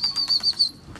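A pigeon takes off and flaps its wings in a quick series of close, crisp wingbeats, about five flaps that fade and stop, with no other sound.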